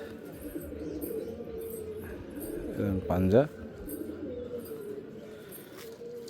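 Pet pigeons kept at home give a single close, rising cooing call midway through, against steady background noise. Someone talks before and after the call.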